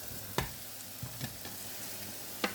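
Onions being stirred in a frying pan while making carbonara, with a few brief scraping strokes of the spoon over a faint, steady sizzle at close range.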